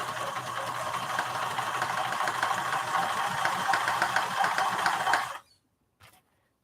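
A sewing machine runs steadily for about five seconds while stitching a project bag, its rapid mechanical whir close and even before it stops abruptly, followed by a couple of faint clicks.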